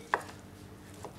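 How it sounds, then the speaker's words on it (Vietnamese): A single sharp knife chop on a cutting board while dicing chả quế, Vietnamese cinnamon pork sausage, followed by a fainter second tap, quiet and close. "Chúng ta cũng cắt hạt lựu ra đối với phần chả quế này."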